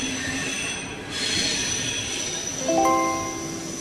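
A train pulls out of a station with loud, high-pitched squealing wheels that rise and sharpen toward the end, over steady rail rumble, close by and with no talking.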